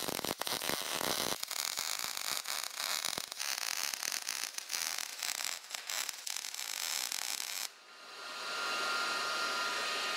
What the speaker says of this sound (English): I'm just gonna do what I saw somebody do on the internet, and that's weld this little gap up a little bit.